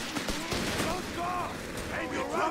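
An MG42 machine gun fires in the World War II strategy game Company of Heroes 3 amid dense battlefield noise, with rapid gunfire blending into a continuous roar of combat sounds throughout.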